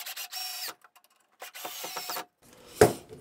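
Screws driven with a power driver into the wooden leg of a large model railroad helix, heard as two close, whirring bursts separated by a short pause, followed by a sharp knock.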